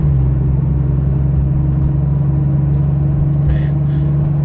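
A Porsche 911 GT2 RS cruises along with a steady, low engine drone and road rumble heard from inside the cabin, with no talk.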